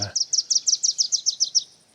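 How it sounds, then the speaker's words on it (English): A Rufous hummingbird's dive display on Vancouver Island, a rapid series of about eleven sharp high chirping pulses in an even rhythm, clear and fairly close, preceded by a brief low thump. "Rufus hummingbird doing his dive"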